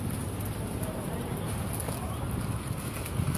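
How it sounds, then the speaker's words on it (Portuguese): Strong wind buffeting a microphone outdoors at a beach shopping area in Aracaju, Brazil, a continuous low rumbling roar that stays loud and steady throughout, with no clear speech. "E o vento tá forte, não dá nem pra. Não dá nem pra gravar direito."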